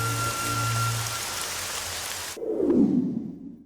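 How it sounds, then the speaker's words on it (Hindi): Rain falling, a dense steady hiss of drops on surfaces that cuts abruptly to a softer, muffled patter partway through, loud and without voices. "तुम्हें कैसे पता था कि बारिश होगी?"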